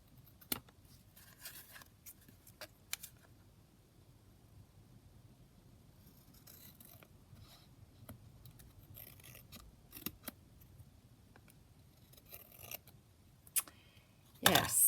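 Scissors trim the edges of a paper tag in short, separate snips spread across a quiet room, with a louder cluster of cuts and handling at the very end.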